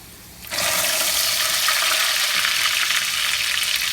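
Whole round red chillies, five or six of them, with green coriander hitting hot oil for a dhaba-style masoor dal, a sudden loud burst of sizzling that settles into a steady, dense crackling hiss.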